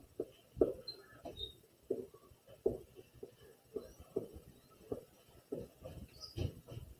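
A pen or pencil drawing a small circle on paper above a written number, soft scratchy strokes coming in short repeated bursts, quiet and close with no talk.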